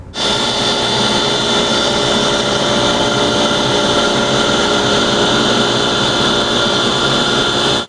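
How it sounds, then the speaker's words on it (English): A router table rounds over the edges of wooden parts for a Greene and Greene style wall clock. A loud, steady high whine starts abruptly, holds for about eight seconds, then cuts off. "I just need to go over the router table and round them over"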